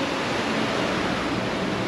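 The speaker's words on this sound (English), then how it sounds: "There's the water coming through right there." Water running steadily through an indoor habitat at Biosphere 2, a dense, even rushing wash like a small waterfall, close and loud, with no voices over it.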